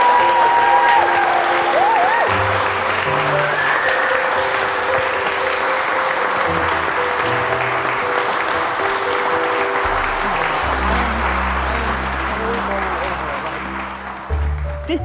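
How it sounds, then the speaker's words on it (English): Sustained audience applause for Callum Stevenson, the Portrait Artist of the Year, fills the room throughout, dense and steady, with music playing underneath and a slight fade near the end. "another round of applause for our Portrait Artist of the Year"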